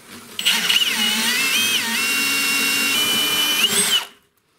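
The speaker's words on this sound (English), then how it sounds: "It's not the easiest thing to drill out." A power drill whines steadily at high speed, its pitch wavering as it bites into a rusted, seized metal snowblower shear pin, running continuously for several seconds before cutting off.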